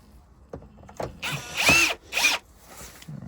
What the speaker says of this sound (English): if you're using a drill, you wanna have it on a low torque